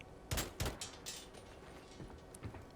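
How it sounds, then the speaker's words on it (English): Gunshots fire in Days Gone Remastered as loudspeakers at a horde site are shot out, two sharp close cracks in quick succession followed by a few fainter, spaced reports. "I'm going to take all of the speakers out with bullets here"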